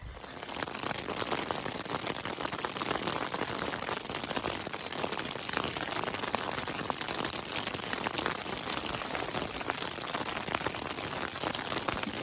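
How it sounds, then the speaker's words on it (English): Rain pattering steadily on a tent at a campsite along the Colorado Trail, a dense, even hiss of drops that holds constant throughout with no voices. "Right before we were supposed to make dinner, started to rain."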